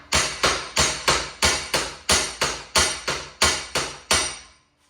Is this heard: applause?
no